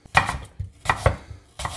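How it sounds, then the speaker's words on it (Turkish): A knife dices an apple into cubes on a cutting board in quick, uneven strokes, chopping sharply, close and clear with no talking. "Daha sonra bunu hızlı bir şekilde küp küp doğrayacağız"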